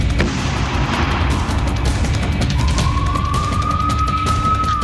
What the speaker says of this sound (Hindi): तुरंत खतरे के सायरन बज उठे।